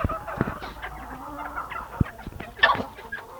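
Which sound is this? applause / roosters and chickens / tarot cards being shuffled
roosters and chickens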